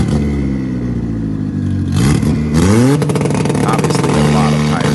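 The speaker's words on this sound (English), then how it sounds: "You can hear the high RPMs hitting the limiter as he shifts early." Toyota truck engine revving hard, bouncing off the rev limiter as it shifts early with heavy tire spin, rising and stuttering engine tones close by with someone talking over it.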